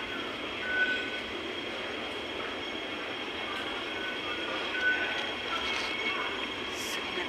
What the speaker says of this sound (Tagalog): Sakay tayo ng train.